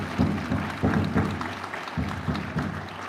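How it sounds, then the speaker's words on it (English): Applause at a swearing-in ceremony comes in moderate, uneven bursts of clapping from an indoor audience, rising and dipping over a few seconds. "I would like to have a round of applause"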